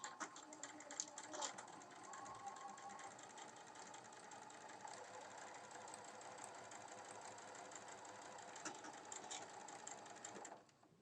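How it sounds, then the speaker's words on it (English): A sewing machine runs steadily for about ten seconds, stitching two front fabric pieces of a quilted sunglasses case together, a close, even mechanical whir that stops near the end. "going to sew these 2 pieces for the front together"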